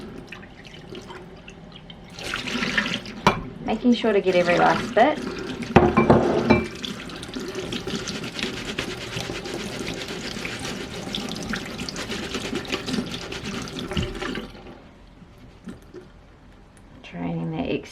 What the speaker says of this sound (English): now I'm just going to tip it into the sieve and rinse it through with a little bit of water.